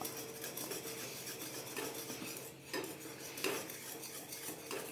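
A wooden rai churner stirs a cooking vegetable mixture to keep lumps from forming, making soft, repeated scraping and knocking strokes against the pot, quiet and close with no voices.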